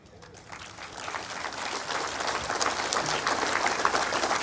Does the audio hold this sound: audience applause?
yes